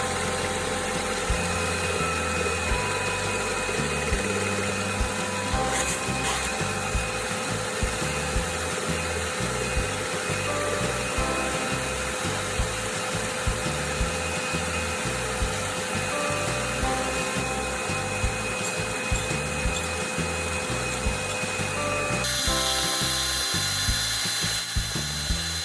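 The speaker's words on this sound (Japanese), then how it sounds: "フライス板で樹脂の平面をざっくり出します。" A milling machine surfacing a block of mesh-reinforced resin grinds steadily with a rhythmic mechanical chatter and whirring motor, ongoing for the whole stretch before the tone shifts near the end.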